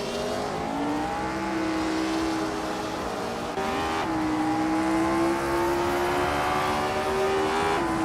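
Racing cars launch off the line in a video game race, led by a 1962 Porsche 804, with engines climbing in pitch through shifts in a continuous rising drone and faint tyre noise.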